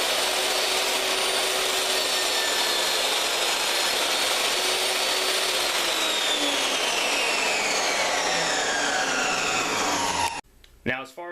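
Power saw ripping lengthwise through an AZEK PVC board, cutting as it would through wood. A loud, sustained whining buzz with rising and falling pitch runs steadily for about ten seconds, then stops and spins down.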